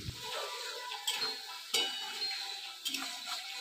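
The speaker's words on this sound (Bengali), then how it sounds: "ভালো করে এখন নাড়াচাড়া করবে।" Fried potatoes, eggs and soybean chunks with spices being stirred in a pan, giving a soft steady sizzle broken by a few sharp scraping clicks of the spoon against the pan, close and fairly quiet.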